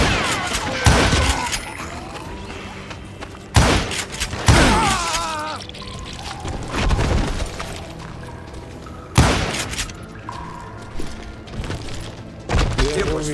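Gunshots from the Wild West shooter Call of Juarez: Gunslinger ring out in loud, sharp bursts spaced a few seconds apart, with ricochet-like tails and game effects filling the gaps between them.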